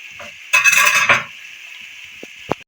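Snack ingredients are stirred and half-cooked in a pan over high heat, giving a burst of loud close sizzling and scraping for under a second, then a steady faint hiss and a few small metallic taps.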